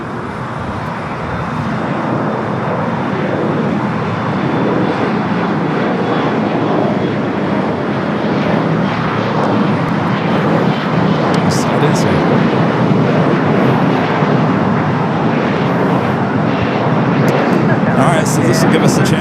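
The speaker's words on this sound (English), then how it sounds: "Runway 25 right, good takeoff." Jet airliner taking off from runway 25 right at Los Angeles International Airport, a loud, broad, steady engine roar that holds for many seconds with little change.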